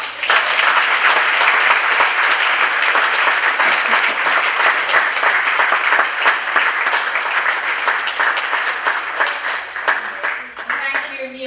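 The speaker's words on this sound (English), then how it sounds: "just give a round of applause for a fantastic." A large audience at a hairdressing college show applauds loudly and continuously, dense clapping sustained for about ten seconds before tapering off into scattered claps.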